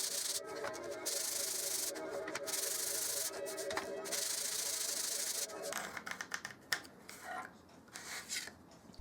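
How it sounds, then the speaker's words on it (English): Ukulele wood pieces are sanded by hand with 120 grit sandpaper, giving repeated loud scratchy strokes with short pauses between them, then softer, more irregular rubbing and rattling toward the end. "I gave each face of each piece a sanding by hand with a 120 grit paper."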